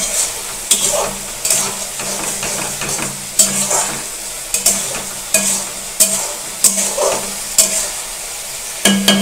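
Chicken stirred in hot oil with ginger and garlic: steady frying sizzle broken by a spatula scrape roughly every second, close and fairly loud, with no talking.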